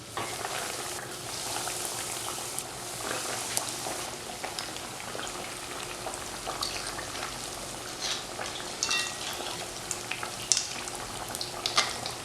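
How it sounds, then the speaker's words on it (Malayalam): Egg cutlets frying in hot oil, a steady bubbling sizzle with light crackles and occasional soft clinks of utensils, close and continuous without speech. "നമുക്കിനി കട്ട്ലേറ്റ് ഓരോന്നായിട്ട് ഇട്ട് ഫ്രൈ ചെയ്തെടുക്കാം."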